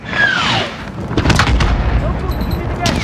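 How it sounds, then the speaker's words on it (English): Missile strike in the 2019 Call of Duty: Modern Warfare campaign, with a deep boom and rumbling blasts under a whistling incoming round, amid loud battlefield gunfire and radio chatter. "Copy, missile inbound."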